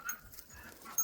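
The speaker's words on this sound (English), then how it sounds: "And there's my puppies." Pet dogs pant close by in a yard, with soft rapid breathing and a brief louder burst near the end.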